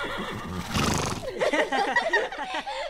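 Pepper, an injured cartoon horse, lets out a loud, close whinny that rises and wavers for about a second, followed by shorter snorting and nickering calls.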